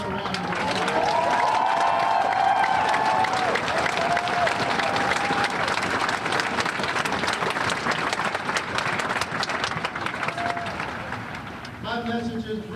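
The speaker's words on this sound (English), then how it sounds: "Give them another round of applause." Sustained crowd applause and cheering fills a Greek-style outdoor amphitheatre in Denver, honouring volunteers at a protest gathering; dense clapping holds steady throughout, with a few shouts and whistles, before tapering slightly near the end.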